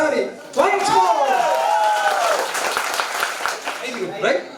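An audience at a music concert breaks into applause, a sustained clatter of clapping mixed with voices and calls that rises, holds, and fades toward the end.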